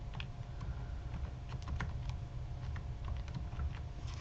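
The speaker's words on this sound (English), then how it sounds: "we're going to type in a text string that says hello world" Code being typed on a computer keyboard: quiet, quick irregular key clicks patter continuously over a low room hum, faint and close with no speech.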